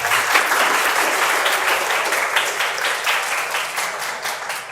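Dense, sustained applause from an audience at an Indonesian talk event, many hands clapping steadily and loudly for the full duration with no speech over it.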